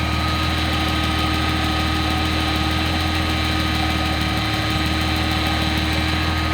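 Car engine idling with the air conditioning on and the idle air control being adjusted, a steady close mechanical drone with a slight wavering in pitch, no voices.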